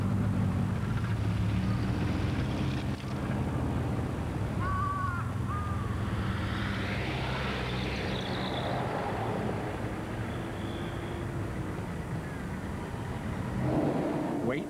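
Crows wait beside a pedestrian crossing in town, giving occasional caws against a continuous roar of passing road traffic, with a brief faint voice in the mix.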